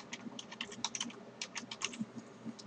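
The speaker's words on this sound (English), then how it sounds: "you would type in your password here" Typing on a computer keyboard while entering a password during CraftIRC plugin setup for a Bukkit server: a quick, irregular run of soft key clicks and taps, close up and with no talk.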